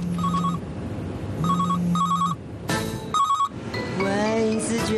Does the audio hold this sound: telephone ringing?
yes